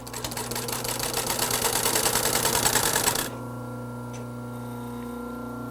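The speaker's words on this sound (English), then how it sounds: "Start sewing the two panels together. Got the machine set on a small stitch" An upholstery sewing machine set to a small stitch runs a seam joining two loosely woven cushion panels for a camel back sofa inner spring cushion: a steady, rapid mechanical chatter for about three seconds, then it stops and leaves a low motor hum.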